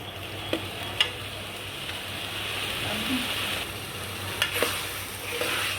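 Ginger-garlic paste sizzles steadily in a hot pan, a constant crackling hiss broken by a few sharp clicks of a spoon stirring against the metal.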